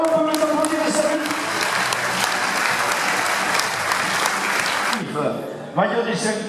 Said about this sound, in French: Alors, on peut les applaudir et saluer.